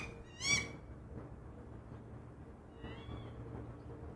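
A female goshawk scolds her mate with one sharp, high, wailing call up close, then a fainter, shorter cry follows over quiet outdoor background.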